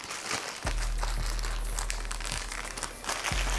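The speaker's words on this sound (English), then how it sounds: "I'm gonna zip this up." A plastic zip bag holding sweet potatoes seasoned with garlic powder, onion powder, smashed garlic and smoked paprika is pressed shut. It crinkles and crackles up close for several seconds, with a couple of sharper rustles.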